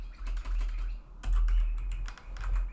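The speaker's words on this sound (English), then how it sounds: "what I'm going to do is I'm going to type in my equation" Quick, light taps on a computer keyboard as an equation is typed in, two short bursts of clicking keys over a low background hum, near and fairly soft.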